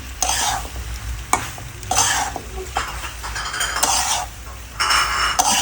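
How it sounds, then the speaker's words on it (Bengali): Boiled pasta is stirred vigorously in a pan with a spoon or spatula, producing rhythmic bursts of scraping and sizzling that come in repeated waves, close and fairly loud. "এখন ভালো করে নাড়াচাড়া দিয়ে নিতে হবে।"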